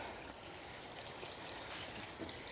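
Water trickles steadily from a water blade into a garden pond, a continuous close splashing hiss with no pauses and no voices.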